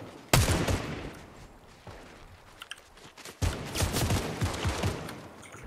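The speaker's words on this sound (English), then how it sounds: "you can slide and shoot the corpses" Bursts of rapid gunfire from a Fortnite trios match, a loud volley at the start and another sustained burst later, separated by quieter scattered shots.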